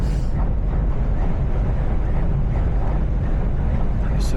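Heavy wind roars and buffets the microphone on a truck in a constant low rumble, loud and unbroken throughout.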